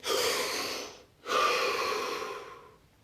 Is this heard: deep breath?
yes